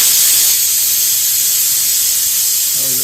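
Fish frying in coconut oil gives a steady, loud hiss and sizzle that runs unbroken from start to end, with no talk over it.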